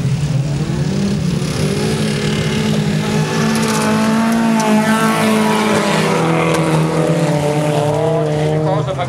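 Race cars at a Danish track heat, engines roaring steadily and rising in pitch as they accelerate, with tires scrabbling and a busy, loud, continuous din of several cars together.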